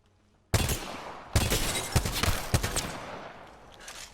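A burst-fire gun in a shooter video game fires several loud, close rapid bursts after a quiet start, each burst a cluster of sharp cracks that tail off into fading echo, with no talking.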